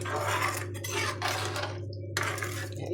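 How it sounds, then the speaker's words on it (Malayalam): A utensil scrapes and clinks against a pot while stirring a Kottayam-style shark curry with masala and kudampuli, intermittent soft scraping over a steady low hum, fairly faint with no speech. "നമുക്കൊന്ന് ഇളക്കി മെല്ലെ ഒന്ന് എല്ലാ മസാലകളും അതിൽ യോജിക്കാനായിട്ട് ഒന്ന് ഇളക്കി കൊടുക്കാം"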